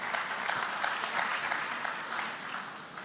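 Sustained applause from a seated audience at a legal practice management panel discussion, steady dense clapping filling the room for the full stretch without any speech over it.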